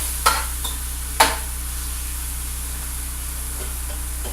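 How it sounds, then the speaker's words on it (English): Meat fries in an oiled pan at Moosewa Lodge, giving a constant close hiss of sizzling. Two quick knocks of a utensil break in near the start, with no speech. "Now we got a good fry going on here."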